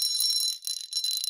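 A small handmade bell rings with bright, high metallic tones, shaken in quick, continuous jingles that dip briefly midway, close and alone with no talk.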